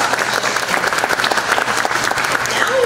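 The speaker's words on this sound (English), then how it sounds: "Let's give them a very big round of applause." A crowd at a beauty pageant claps loudly and continuously in dense, steady applause for a few seconds.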